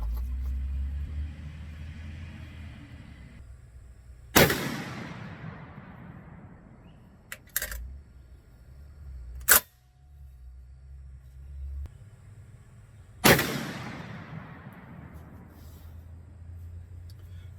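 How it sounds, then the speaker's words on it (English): Three loud, sharp brush-gun rifle shots fired through coupons at an outdoor range, each a single crack with a trailing echo, spaced several seconds apart, plus a couple of small clicks between them and a low rumble underneath. "we'll shoot 3 through the coupons"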